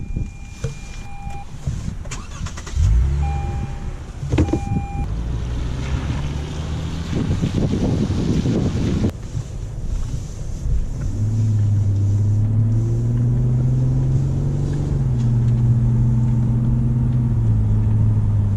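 Lexus GS350 F Sport V6 sedan on the move, with a low engine note rising and falling under heavy wind and road noise, plus a few knocks early on and a steadier, louder drone later.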